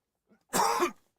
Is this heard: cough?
yes